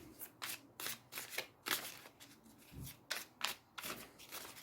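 A market deck of cards for the Ascension board game being riffle-shuffled by hand, a rapid series of crisp, papery bursts repeating in quick rhythm close up, with no talking.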